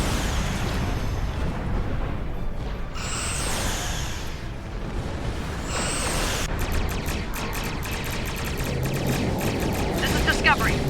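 Energy weapons from starships fire in Star Trek Online, a pair of whooshing blasts followed by rapid repeated bursts of pulsing fire over a dense, continuous bed of game effects and music, with no speech.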